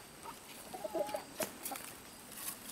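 Farmyard fowl at an off-grid homestead make a few short, faint clucking calls in a quiet outdoor setting, with a brief scratchy noise partway through.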